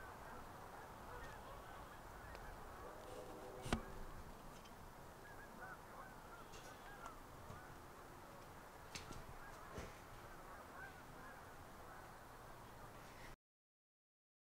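Geese honk faintly in the distance over a steady outdoor background, with one sharper call standing out before the sound cuts off.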